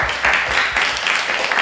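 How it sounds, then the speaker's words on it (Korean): Congregation applause at a school church worship service, a dense, loud burst of clapping from many hands that continues evenly throughout. "오늘 처음인데도 끝까지 자리를 지킨 우리 지영이를 박수 한번 주시죠."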